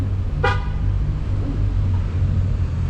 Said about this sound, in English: And there's someone coming, which is why you honk.